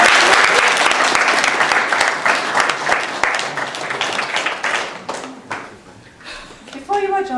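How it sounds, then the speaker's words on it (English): Guests at a wedding ceremony burst into loud, close applause that gradually thins to scattered claps, then the officiant's voice resumes. "I think that deserves a round of applause, ladies and gentlemen."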